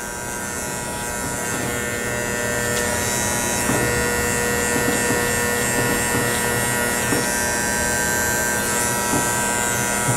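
Andis electric hair clippers buzz steadily and loudly up close during a fade haircut, a constant whine with slight changes in pitch as the blade moves through hair.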